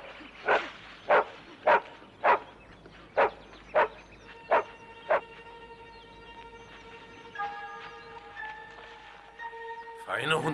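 A dog barks about nine times in an even, sharp rhythm, moderately close, followed by a faint high tone and light background noise, with no talk over the barks.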